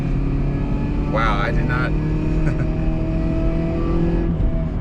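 A 1992 Honda Accord wagon with an F20B engine swap, no cat, a resonator and a worn knockoff Flowmaster muffler, rumbling steadily up close while people talk and exclaim over it.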